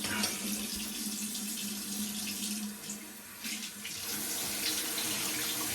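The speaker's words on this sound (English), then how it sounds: "Hot water is still heating up. Had to turn it on a little higher, trying to get the water to heat up." Hot water running from a bathroom tap into a sink before a shave, a steady close rushing stream that dips briefly midway, then continues strongly.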